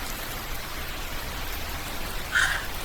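Steady rain falls as a dense, even hiss, with a brief louder burst of drops or splashes near the end and no voices.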